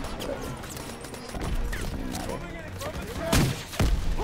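Rapid bursts of gunfire crack through a battle in Call of Duty: WWII, with several sharp, loud shots near the end over a dense background of distant fire, and shouting voices come through the din.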